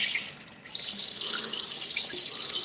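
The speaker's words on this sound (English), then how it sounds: "I hope that's the sound of him washing his hands." Water runs from a tap in a steady, fairly quiet hiss, briefly softening before surging back, as someone washes their hands at a sink.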